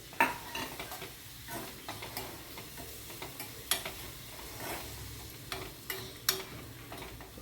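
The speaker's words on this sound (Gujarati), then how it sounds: "એને સરસ 2-3 મિનિટ ધીમા તાપે, એકદમ ધીમા તાપે આ બધું સાંતળવા દેજો" Crushed garlic is sautéed in a pan on low heat, with a soft sizzle under intermittent light scrapes and taps of a spoon against the pan, fairly quiet and close.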